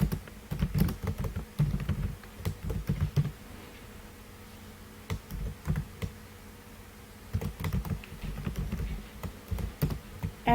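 Keystrokes on a computer keyboard while code is typed, coming in quiet clustered bursts of clicks separated by short pauses, close and soft in a quiet room.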